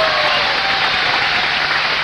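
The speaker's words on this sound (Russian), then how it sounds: "Ваши аплодисменты Светлане" Studio audience on a Ukrainian TV game show, Inter's "Bolshaya Stirka" from 2002, applauds in a steady, dense wash of clapping that fills the whole short stretch at close, loud level with no talk.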